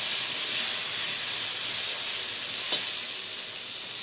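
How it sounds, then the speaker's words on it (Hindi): Potatoes fry in oil for a Bengali-style village chicken curry, a dense continuous hiss of bubbling fat close by and steady throughout, with one small tap partway through. "यहाँ मेरे जेठानी जी ने कड़ा आलू फ्राई कर रही है"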